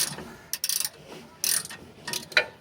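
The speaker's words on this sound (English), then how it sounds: "And then you're going to take your ratchet" A hand ratchet loosens bolts on the rear brake rotor of a 2007 Ford F150. Three quick bursts of close, clicking pawl ratcheting are separated by short pauses.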